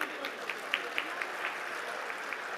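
An audience in front of the Vidhana Soudha claps at a National Survey Day celebration, a faint, scattered patter of applause with a few sharper individual claps, steady throughout and without talk.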